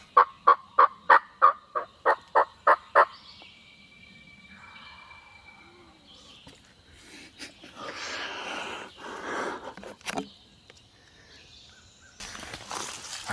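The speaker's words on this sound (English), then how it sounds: "hear about roughly 6 gobblers in like all different directions" Wild turkey gobblers gobble in a rapid series of about nine loud, evenly spaced calls, followed by quieter rustling and distant outdoor noise with scattered softer sounds.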